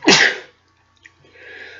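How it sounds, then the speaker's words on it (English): A single loud, close sneeze bursts out at the start, followed by near silence with a small sniff and a faint rustle of movement at the end. "Excuse me, I'm gonna sneeze."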